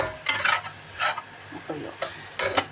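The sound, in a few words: stirring cauliflower garlic fried rice in a pan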